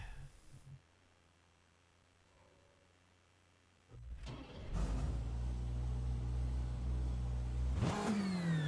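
A race car engine in the rFactor 2 driving simulator starts up after a few quiet seconds, then revs loud and steady with a rising whine near the end.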